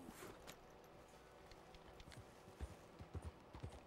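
Horse hooves clip-clopping in the video game Red Dead Redemption 2, quiet irregular thuds at a walking pace that grow a little more frequent and distinct toward the end.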